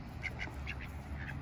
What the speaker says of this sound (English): We're feeding the duck.